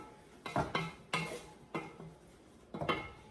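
A spoon stirs salt, pepper and spices through a meat mixture in a pot, making four separate scraping, clinking strokes of utensil on cookware at a close, moderate level with short pauses between them.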